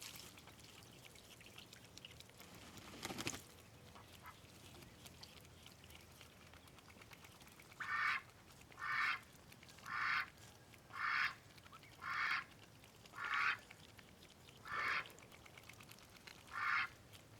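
Young ducklings in a portable snap-assemble pen give a run of about nine evenly spaced, loud nasal calls after an earlier thump, over a faint background hiss, close to the listener with no talking.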